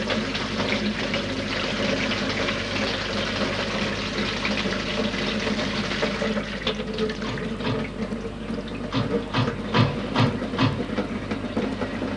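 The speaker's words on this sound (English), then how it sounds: "you'll hear some bumping and banging, but eventually the water will come out muddy" Tap water runs steadily through old household pipes, a dense continuous rush with low rumbling, and toward the end come several sharp knocks and bangs from the plumbing.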